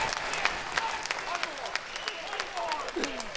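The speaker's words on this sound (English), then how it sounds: "Give them both a big round of applause." A crowd applauds at a Mecum collector car auction in Indianapolis, steady clapping mixed with crowd noise and voices, with faint tonal sounds rising above it.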